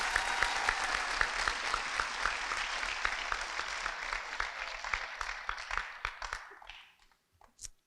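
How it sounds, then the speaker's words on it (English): Audience applause at a city fire department awards and recognition ceremony in Lauderhill, a dense, steady crowd clapping that carries on for several seconds and then fades out, with a few scattered claps at the end. "Please, one more round of applause for our city officials."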